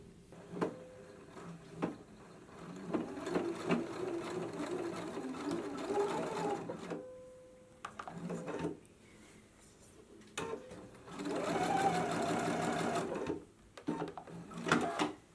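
A sewing machine reinforces the sleeve corners of a shirred summer dress (McCall's 7946) in short bursts of rapid stitching. Brief pauses for pivoting separate the runs, and a longer, louder run comes near the end, all close-up with no talking.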